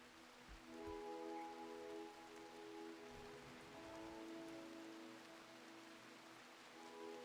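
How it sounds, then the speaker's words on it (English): Light, soothing rain in RimWorld patters steadily and faintly under quiet game music with soft sustained tones. "A little light, soothing rain."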